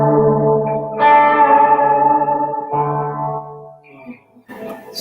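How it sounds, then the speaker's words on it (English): Electric guitar played through a poly reverb pedal, sustained chords smeared into a lush, wavering wash of echo and shimmer, swelling and decaying over several seconds with a brief pause before new notes. "I have a weird reverb that I never use. It's a poly reverb, has this weird"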